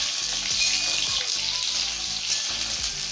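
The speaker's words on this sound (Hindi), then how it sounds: "इसमें डालेंगे हम ये स्लाइस किया हुआ प्याज। प्याज को भी हम हल्का भून लेंगे।" Sliced onion fries with potatoes in a hot pan, a loud, steady, close sizzle that holds through the whole stretch without any talk.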